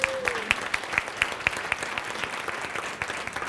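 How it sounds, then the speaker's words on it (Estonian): Conference audience applauding in support of a speaker, a sparse, rhythmic clapping with distinct evenly spaced claps standing out over a softer background of hands, fairly faint overall. "Palun aplausi ka toetuseks"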